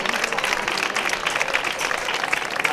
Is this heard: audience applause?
yes